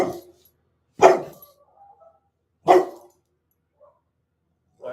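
A dog barks in short, sharp bursts: three loud barks spaced a second or more apart, with a faint whine between, close by.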